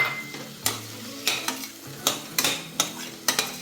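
Shallots sauté with tomato and turmeric in a pan, a steady sizzle broken by repeated sharp scrapes and clinks of a spoon stirring against the metal, close and clear with no voices.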